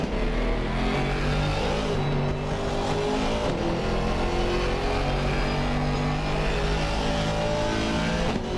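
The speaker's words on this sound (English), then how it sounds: "Elizondo is absolutely pushing in that Mercedes AMG GT4" Mercedes AMG GT4 race car at full throttle on a lap of the Paul Ricard circuit, its engine a loud, steady, continuous roar with rising and falling pitch through gear changes, alone without voices.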